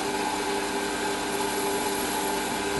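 Lathe cutting a chamfer on a small metal part, a steady machine hum with a sustained cutting whine, close and even throughout.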